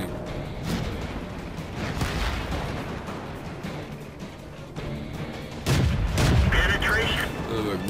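Tank guns firing in the World of Tanks game, heavy booming shots and explosions mixed with battle rumble, a louder burst of blasts near the end, while someone talks over the action.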